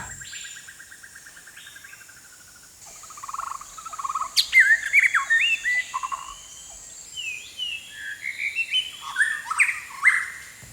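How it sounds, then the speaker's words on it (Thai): Several birds sing and chirp in varied overlapping phrases in a forest against a faint high insect drone, with calls growing busier after the first few seconds. "นกต่างๆยังดำเนินชีวิตของมันเช่นเดิม ยังคงขับกล่อมผืนป่าให้เต็มไปด้วยชีวิตชีวา"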